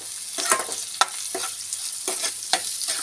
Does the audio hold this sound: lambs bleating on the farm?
no